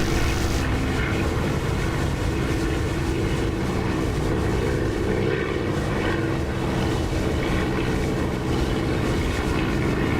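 Steady propeller aircraft engine drone in the DCS flight simulator, throttled back on landing approach, a continuous broad rumble holding level and loud throughout with no voices.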